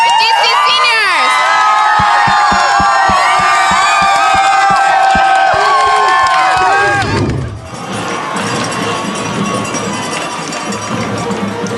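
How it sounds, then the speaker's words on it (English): A high school football crowd at Douglas County versus Chapel Hill roars and cheers for the Douglas County seniors, loud and sustained for several seconds before settling into a lower crowd murmur. "let's get another big old cheer for DC seniors."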